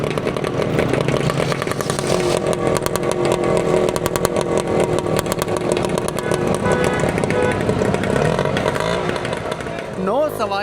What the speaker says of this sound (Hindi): इस रिक्शे का जो शोर है वो बहुत ज़्यादा है